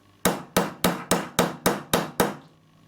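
A small hammer strikes a metal fastener on a knitting bag eight times in a steady rhythm, sharp close taps with brief ringing decay and no talk.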